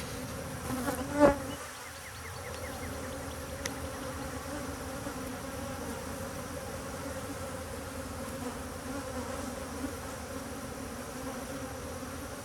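Honeybee drones buzz inside an open hive, a dense, steady hum of many wings filling the whole stretch, with a single soft knock near the start.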